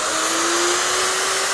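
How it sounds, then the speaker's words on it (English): Woodworking router switched on and held at running speed, a loud, steady high-pitched motor whine with a constant tone and no talk. "Switch on, let the router reach running speed."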